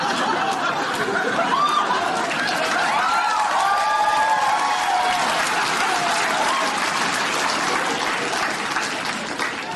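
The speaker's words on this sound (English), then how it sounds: "This man was applauding the survival of the flight." Steady audience applause fills the room, a dense wash of clapping with scattered cheers and light laughter mixed in, sustained evenly for about ten seconds.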